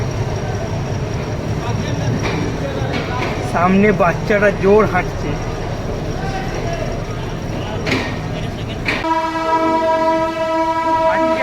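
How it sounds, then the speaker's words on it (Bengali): Howrah-Darbhanga Weekly Express, train 15235, stands at platform 8 of Howrah station amid a steady rail rumble and platform bustle. Someone speaks briefly, and a long, multi-tone train horn sounds loud and near toward the end. "হাওড়া স্টেশনের 8 নম্বর প্ল্যাটফর্মে লাগানো হচ্ছে train number 15235 Howrah Darbhanga weekly express."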